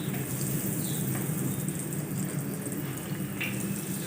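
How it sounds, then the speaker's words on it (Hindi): Potato-stuffed bread rolls fry in hot oil, giving a steady, close, even hiss and crackle with a few brief higher sputters, and no talking. "ऑयल हमारा अच्छे से गर्म हो चुका है। अब हम रोल डालेंगे"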